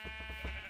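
A Minecraft sheep lets out a quick, faint bleat, a short nasal wavering tone heard alone and fairly distant in the game's quiet surroundings.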